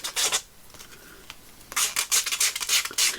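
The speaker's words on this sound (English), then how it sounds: "I'm just going to sand the edge just so I can get it to take a little bit of ink." Sandpaper rubbing along the edge of a handmade gingerbread man journal cover, short raspy strokes in two bursts, close and fairly loud, with a quiet pause between them.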